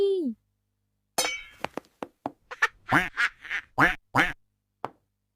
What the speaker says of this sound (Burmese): ဘဲသားလင်းချက်ဖို့ဘဲကိုဖမ်းမိပြီ